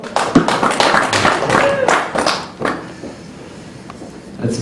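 Brief burst of audience clapping at a stand-up comedy show, used as a vote: a short, loud patter of claps that fades after a couple of seconds, with a quieter room after.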